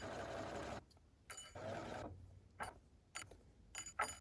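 Sewing machine running lock stitches in short mechanical bursts, a long whirring run followed by several brief stop-start spurts, close and fairly quiet with no talking.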